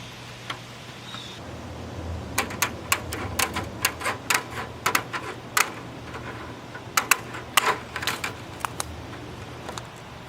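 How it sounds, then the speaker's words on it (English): Screws being driven through mesh into a five-gallon plastic bucket while building a worm tower, a run of sharp close clicks and taps in irregular bursts over a low hum. "I'm going to screw in the mesh, starting with my diagonal ends"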